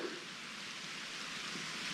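Rain begins falling on a forest beside Cranberry Lake, a steady soft hiss of drops close by that holds evenly with no voices.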